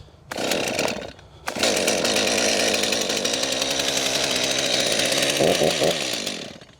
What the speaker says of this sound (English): the pull start, and I never let go of the pull start, even when it fires